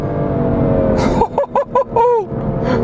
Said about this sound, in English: 3rd gear, putting on the power through the corner, holds on, straightens up nicely, and ballistic acceleration straight after